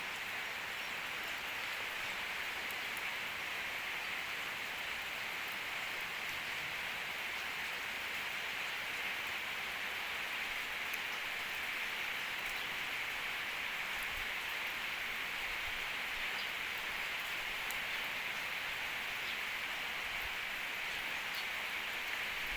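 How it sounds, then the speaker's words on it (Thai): Light morning rain falls steadily in rural Chaiyaphum, Thailand, a continuous even hiss of drops on surfaces at low volume, with no voices or other sounds. "บรรยากาศเช้านี้จ้ะฝนตกลิน"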